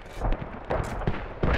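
Mortar rounds land in the Squad military game during a 100-player battle, as a series of heavy booms and rumbling impacts spread across a second and a half, some near and some farther off, with no voices over them.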